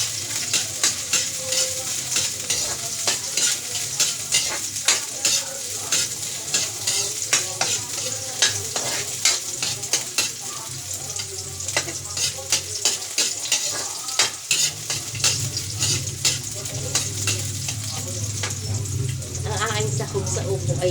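Onions sizzle and fry loudly in a pan while being stirred, with steady crackling and frequent scraping strokes throughout, the frying growing denser toward the end.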